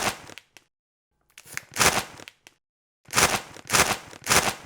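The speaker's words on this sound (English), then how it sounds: "this is the sound of me opening up a bag of chips" A no-name barbecue potato chip bag is pulled open with bursts of crinkling, crackling plastic, a few short rustles, a pause, then three louder rhythmic crunching pulls close up.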